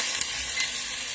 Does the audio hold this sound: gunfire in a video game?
no